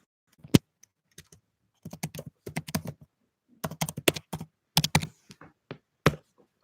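Bursts of typing on a computer keyboard, with irregular clusters of close, crisp key taps and short pauses between runs, no talk.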